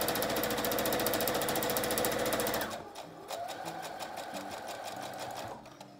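Sewing machine stitching a washable cloth face mask, running in a loud steady mechanical whir for almost three seconds, then slowing to softer, quicker stitching bursts with small clicks.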